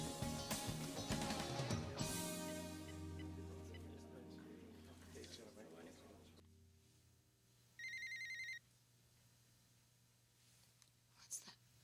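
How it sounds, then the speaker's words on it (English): A cell phone rings in a short, regular electronic burst after a stretch of dramatic music and background sound in a 2001 soap-opera scene, the ring clear and close with no talk over it. "Taylor's cell phone."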